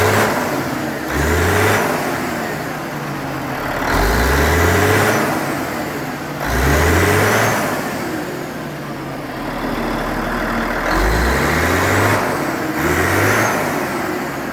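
A Cat 3406B diesel engine runs while its idle screw is adjusted, the motor swelling and falling in repeated rev surges about every two to three seconds, loud and close with no talk.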